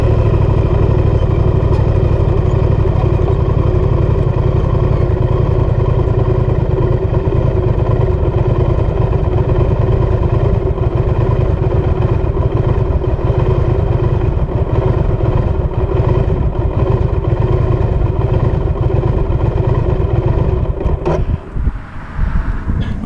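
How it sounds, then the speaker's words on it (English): A Triumph Speed Twin motorcycle idling loudly with a steady low throb and some wind noise for most of the time, then near the end the idle sags and stumbles before the engine stalls and cuts out. "sometimes I would just be idling and the idle speed would drop and drop and drop and drop and drop until the bike stalled out"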